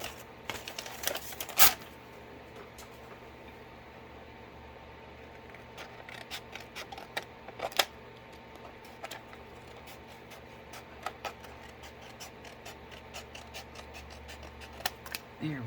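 Quiet, sporadic snips of right-handed scissors cutting, irregular clicks scattered over a soft background, with a few sharper snaps.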